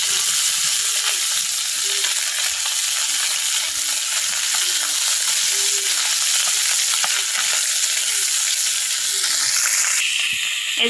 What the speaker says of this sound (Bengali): মাছগুলো একটু ভাজাকে আর একটু উল্টে দিচ্ছি।